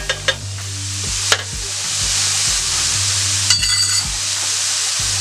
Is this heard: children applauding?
no